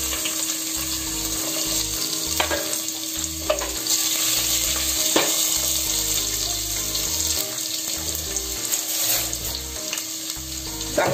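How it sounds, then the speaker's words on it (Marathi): Onion, garlic and curry leaves fry in hot oil for a green-masala surmai curry, giving a steady, loud sizzle with scattered crackles and faint utensil clinks throughout. "तेल तापलं की मी कांदा आणि हे लसूण आणि कढीपत्ता घालते"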